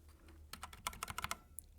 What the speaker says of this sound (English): Let me give it a shot with like a linear keyboard from Keychron